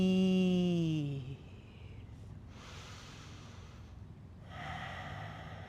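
During a gentle yoga session, a long audible inhale through the nose, then quiet exhales and a soft breath later, close and intimate against a hushed room.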